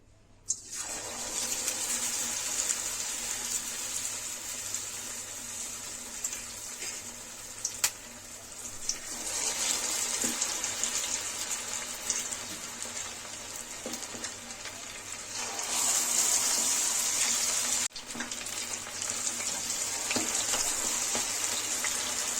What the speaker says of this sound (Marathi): तेल चांगलं गरम झालेलं आहे गॅसचा फ्लेम आपण कमी करायचा आहे आणि एक एक जे आहे लॉलीपॉप आपण याच्यामध्ये सोडत जायचे